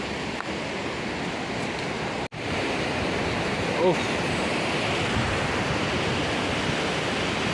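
Steady rushing of a flowing river, a constant broad hiss close by with no break.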